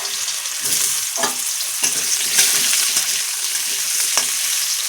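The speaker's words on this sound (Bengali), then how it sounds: "লাল লাল করে আমি আলুগুলো ভাজা করে নেব।" Potato pieces fry in hot oil in a home kitchen pan, a steady close sizzle with occasional sharper crackles and brief stirring scrapes, no voices.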